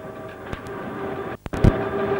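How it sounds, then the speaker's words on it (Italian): An FS direct train, the ES 646 of the 1990s, runs the Udine–Trieste line near the Iudrio river bridge, picking up speed toward 140 km/h; a steady close rumble with a few sharp clanks and a brief dip midway. "Il treno intanto riprende la velocità di 140 km/h."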